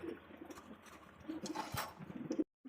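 Pigeons coo nearby in low, burbling calls that repeat and overlap over a soft background hum, then cut off abruptly.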